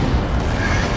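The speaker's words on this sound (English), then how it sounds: "Just saw the D-cannon shot, there it is." A D-cannon shot in the Dawn of War 2 strategy game lands as a dense, rumbling boom that fills the whole second, with heavy low-end weight over steady battle noise.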